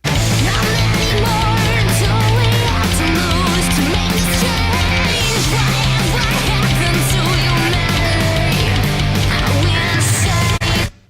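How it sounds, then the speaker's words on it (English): A full, dense song processed with the JST Billy Decker bus glue mastering plugin, heavy bass and bright, loud highs, plays continuously with no talking, then stops abruptly. "I'll play a small clip of the song for you guys now"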